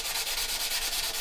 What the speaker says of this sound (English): If you can see anything shiny, just give it a little bit of a sand